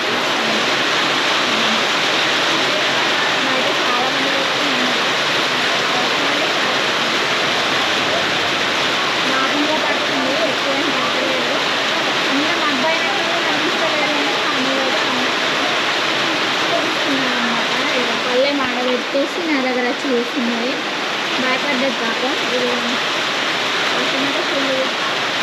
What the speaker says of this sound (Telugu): కానీ వర్షం అయితే స్టార్ట్ అయిపోయింది